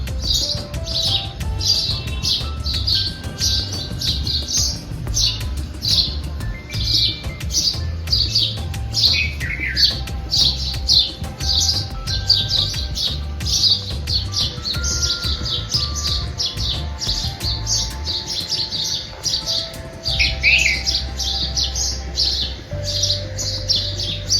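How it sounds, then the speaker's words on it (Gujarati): Sparrows and other birds chirp in the morning, a busy chorus of quick repeated tweets and calls close by, steady throughout over a low rumbling background, with no talk. "બહુ મસ્ત ચકલીઓ ને પક્ષી બોલી શકે છે"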